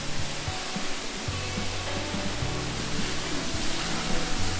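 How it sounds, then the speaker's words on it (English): A constant roaring rush of a waterfall in Bali, broadband and steady, close and loud with no voices. "What an entry to a waterfall."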